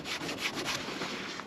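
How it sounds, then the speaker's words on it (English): Steady, quiet abrasive rubbing of sandpaper on a VW Golf GTD front bumper during a smart repair, continuous friction without pauses and without talk. "Bit more sanding."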